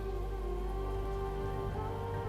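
Steady rain falls during a wet monsoon-like downpour, a constant hiss of drops striking surfaces with a low rumble beneath, continuous and fairly loud with no voices.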